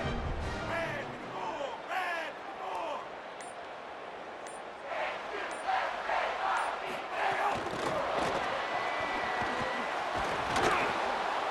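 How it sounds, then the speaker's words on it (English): Stadium crowd in the EA Sports College Football 27 video game roaring and chanting as a broad, continuous wash of noise, swelling in places, with a commentator's voice over it. "The crowd's back in it, baby."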